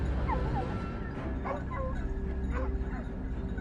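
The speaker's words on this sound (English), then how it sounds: "the barking of the hounds echoed from within the bushes" Several hounds yelping, whining and barking in quick overlapping bursts from within bushes during a wild boar hunt, over a loud low rumble of background noise.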